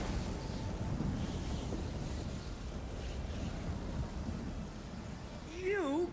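Rolling thunder and a lightning strike in The Elder Scrolls Online, a steady broadband rumble of storm and rain that holds throughout, with a brief swooping tonal effect near the end.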